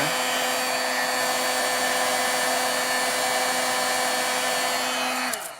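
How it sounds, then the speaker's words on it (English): Heat gun blowing hot air over a Stampin' Up! home-décor heart craft, a loud steady whirring hum held close for several seconds before it cuts off abruptly at the end. "Heat gun's getting really hot, and so it goes even faster and faster the longer we go."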